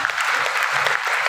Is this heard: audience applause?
yes